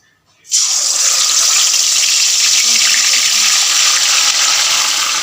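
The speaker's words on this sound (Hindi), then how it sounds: "जिस घी में हमने प्याज फ्राई किया था उसी में हम इस गोश्त को डालेंगे जो हमने मसालों के साथ मिक्स किया है।" Spiced mutton hits hot ghee left from frying onions and erupts into a loud, steady sizzle that starts abruptly and holds strong without letting up.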